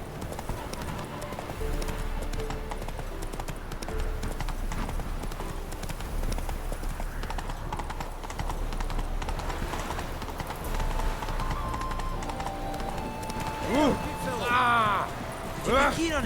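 Horse hooves clip-clop at a steady gallop in The Witcher 3, loud and continuous, with game music in the background and a brief bit of game dialogue near the end.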